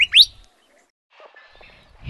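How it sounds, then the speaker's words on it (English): A curve-billed thrasher of the Sonoran Desert gives a short, sharp, whistled call at the start, followed by quiet, faint chatter in an otherwise still outdoor setting. "Curved-billed thrasher."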